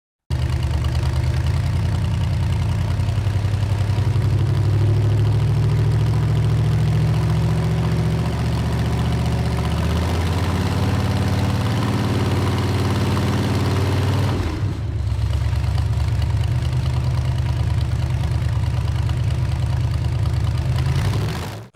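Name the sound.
1959 Cadillac Custom V8 engine idling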